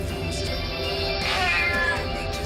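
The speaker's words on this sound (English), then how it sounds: "What's the cat doing up here?" A cartoon cat in the 1987 Teenage Mutant Ninja Turtles series lets out a drawn-out, whiny meow that swells toward the middle, loud and close over a faint background bed.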